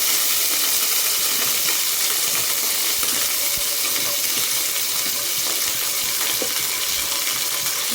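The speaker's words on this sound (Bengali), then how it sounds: "আমার তেল গরম হয়ে এসেছে, এর মধ্যে এবার আমি একটুখানি ভিনেগার, একটু টমেটো সস" Vinegar and tomato sauce hit hot oil in a pan while Bengali-style pahadi chowmein is being cooked, giving a loud, continuous close-up sizzle and hiss with no talking.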